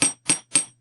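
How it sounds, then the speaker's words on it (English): Chasing hammer flaring a metal edge on a steel block, three crisp, ringing taps in an even rhythm, close and clear with brief metallic decay after each strike. "with my chasing hammer, flare out the edge"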